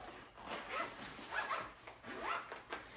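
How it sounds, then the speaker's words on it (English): A zipper is pulled closed around a HAWEEL laptop sleeve handbag, giving three quick rasping strokes with short pauses between them, recorded close and fairly quiet. "and then you can zip it right up."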